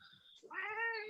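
A cranky female cat gives a close, drawn-out harmonic yowl that rises into a sustained, strained growling cry, heard alone with no talk.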